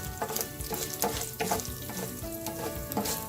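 Lentils frying in a pan over a low flame while being stirred until light brown, a dense close crackle and sizzle broken by repeated scraping strokes of a spoon, with no voices.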